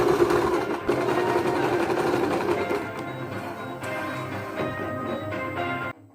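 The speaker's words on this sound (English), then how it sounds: "Now all I gotta do is take it to the sewing machine." A sewing machine stitches pinned sweatshirt side panels together in a steady, continuous mechanical hum that runs close and fairly loud for several seconds, then cuts off abruptly at the end.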